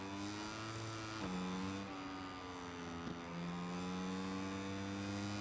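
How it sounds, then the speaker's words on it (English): A motorcycle engine in the MotoGP 24 racing game, during a wet race, holds a steady, quiet droning rev. Its pitch drops briefly at each gear change, and no one speaks. "Revving out the gears."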